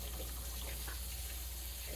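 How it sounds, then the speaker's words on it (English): Tap water runs steadily into a kitchen sink as hands are rinsed clean of breading, a soft continuous splashing hiss with no talk. "Let me rinse my hands here"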